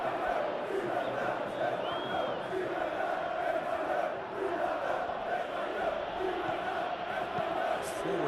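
A stadium crowd in a football video game roars and chants continuously at moderate distance, a broad sustained wash of voices with occasional swells.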